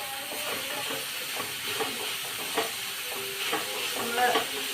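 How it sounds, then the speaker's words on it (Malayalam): Cooked carrot, potato and green peas sautéed with garam masala in a pan give a steady close sizzle and hiss, with scattered stirring clicks and scrapes throughout and no talk. "നമ്മൾ ക്യാരറ്റും ഉരുളക്കിഴങ്ങും ഗ്രീൻ പീസും കൂടെയാണ് വേവിച്ചിരിക്കുന്നത്. അതിലൊന്നും നല്ലപോലെ ഒന്ന് വഴണ്ടി വിട്ടട്ടെ"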